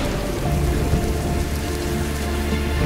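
Steady rain on the African savanna, a dense, even hiss of falling drops that holds at one level from start to finish, with no voices.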